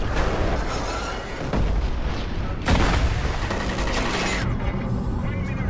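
A grenade explosion in the shooter Killzone Shadow Fall: loud booming blasts and rumbling debris fill the scene, with a fresh heavy burst partway through amid continuous battle noise.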